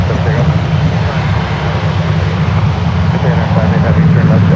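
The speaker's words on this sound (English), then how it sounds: "I like to hear the sounds of the planes." Airplanes at San Francisco airport fill the air with a loud, steady jet roar and deep rumble that holds constant without pause.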